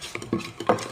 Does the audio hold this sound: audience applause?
no